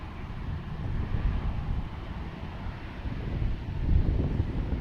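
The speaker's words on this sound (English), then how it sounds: "It is a little windy right now." Gusty wind at DCA airport buffets the microphone with a continuous low rumbling roar that swells and eases over a few seconds, with no voices.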